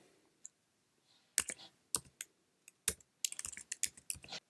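Keys on a desktop Mac computer keyboard are tapped in short bursts of crisp clicks while a code is typed, with a sparse start and then a denser cluster of rapid strokes, close and fairly quiet with no talking.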